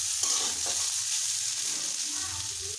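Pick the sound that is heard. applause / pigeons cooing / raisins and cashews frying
raisins and cashews frying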